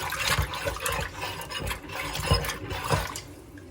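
Water drains from a kitchen sink while dishes are washed, a gurgling, splashing flow with irregular bursts and faint clatter, moderately quiet and near, with no voices.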